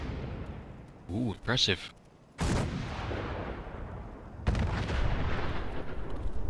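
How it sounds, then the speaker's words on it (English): Long-range mortar artillery in Fallout 4 booming in heavy bursts, a sharp blast after a short pause, then sustained rumbling fire; a voice speaks briefly over the barrage. "Long range mortars here then."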